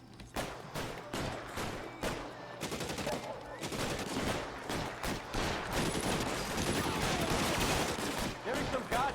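Rapid gunfire in L.A. Noire, a firefight of repeated sharp shots and automatic bursts, fairly distant and steady throughout, with faint voices beneath.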